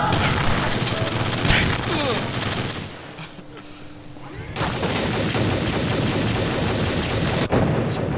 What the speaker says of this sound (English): Holy hand grenade in the tester.